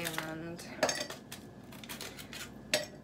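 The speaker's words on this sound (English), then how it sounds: "I need to unload and reload the dishwasher" Dishes and cutlery clatter as a home dishwasher is unloaded, with several sharp clinks and knocks of plates and silverware close by in a kitchen.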